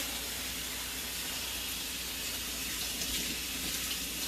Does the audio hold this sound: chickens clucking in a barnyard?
no